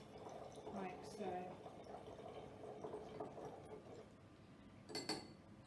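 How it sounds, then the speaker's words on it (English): A lab solution is poured carefully through a funnel into a volumetric flask, giving a quiet trickling fill with a few faint glassy clinks, heard under soft background noise. "very carefully pour that solution in, making sure nothing spills, nothing splashes, like so."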